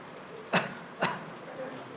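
A person coughs twice in quick succession during an anatomy lesson on the abdominal muscles, two short, sharp bursts about half a second apart against a quiet room.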